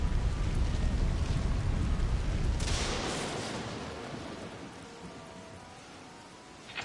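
A thunder crash from lightning redirected into a lightning rod in the game AI: The Somnium Files rolls in over steady rain-like noise, a loud burst near the middle fading into a long rumble that dies away.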